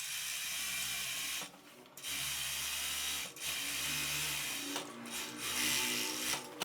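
An overlock serger runs in steady, close mechanical whirring bursts as it trims and finishes the sleeve cap edge of a puffed-sleeve corset top, with a few brief pauses between runs.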